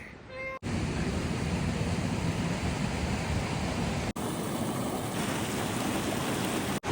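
A waterfall roars outdoors in a constant, close, dense rush of falling water, broken only by a couple of abrupt cuts.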